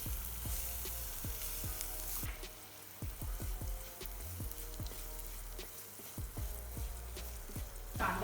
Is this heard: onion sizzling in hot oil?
yes